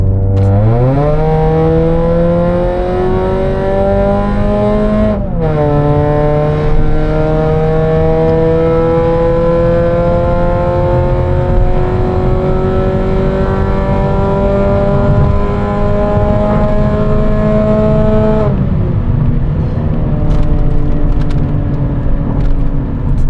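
A Mazda 3 engine revs hard toward high RPM, its whine climbing steadily, dipping briefly after a shift, then holding high before dropping off near the end. The sound is loud and close throughout.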